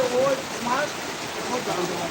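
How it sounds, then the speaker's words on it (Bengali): Steady rain falls in a broad, even hiss with faint patter throughout, moderately quiet and continuous with no clear speech. "আলহামদুলিল্লাহ সুন্দর বৃষ্টি"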